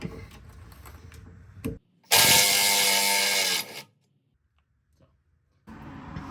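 A ratchet wrench works a rusty 12 mm bolt loose from an exhaust hanger bracket under a Toyota/Lexus during a transfer case skid plate install. Low mechanical clatter gives way to a loud, sustained burst of ratcheting, then near silence and more clatter.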